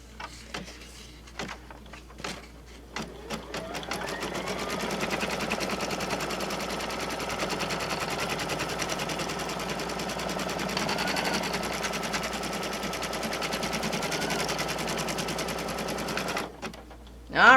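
An embroidery sewing machine stitches a zippered pouch held in the hoop, a fast continuous mechanical rattle running for many seconds after a few starting clicks, then stopping abruptly near the end.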